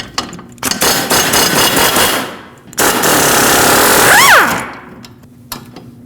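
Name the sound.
wrench with 19 mm socket removing strut bolt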